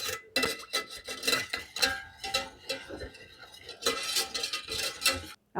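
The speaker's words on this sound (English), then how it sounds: "now I'm going to take my whisk and mix this up until everything's really well combined" A whisk beats General Tso's sauce with red pepper flakes in a bowl, giving rapid, rhythmic clinks and scrapes against the sides that continue nearly unbroken and close-up, with a brief pause near the end.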